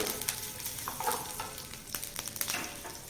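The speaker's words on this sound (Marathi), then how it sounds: "या मिरच्या चांगल्या खरपूस छान भाजून घ्यायचे" Green chillies roast in a pan with a moderate, crackling sizzle. Sharper pops and the scrape of stirring break in at intervals, with no voices.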